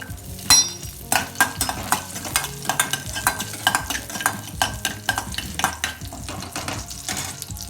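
Garlic cloves sizzle as they drop into hot oil with bubbling cumin seeds, giving a steady close frying crackle with repeated sharp scraping and tapping strikes from stirring.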